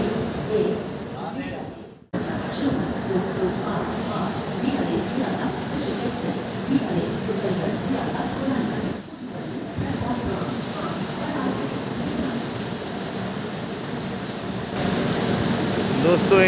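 A passenger train running toward Kanpur Central, heard from inside the carriage: a steady loud rumble and hiss of the moving coach with faint rhythmic clatter, a brief dropout early on, and someone talking over it.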